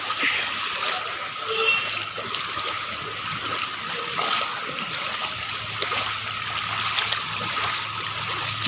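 Feet and vehicles move through knee-deep floodwater on a street in Sahibabad, Ghaziabad, making a continuous close sloshing and rushing of water with muffled voices faintly underneath.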